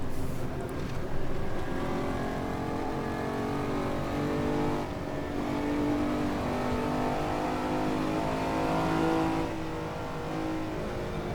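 Race car engine in the video game Assetto Corsa on the Hometown track, a steady loud drone held flat out with slight dips in pitch as the car brakes, no talk over it.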